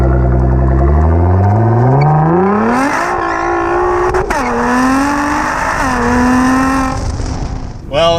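A Nissan GT-R R35 with all-wheel drive revs hard in a burnout attempt, its loud engine note climbing steeply and then holding high with small dips, tire noise underneath and a faint voice now and then.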